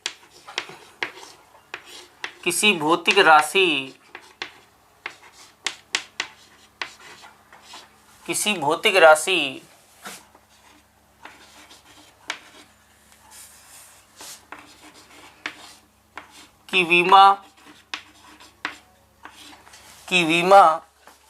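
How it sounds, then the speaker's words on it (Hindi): Chalk or marker scratches and rubs across a classroom board in short, quiet bursts while a teacher talks between them. "पहला बिंदु मैं लिखता हूं"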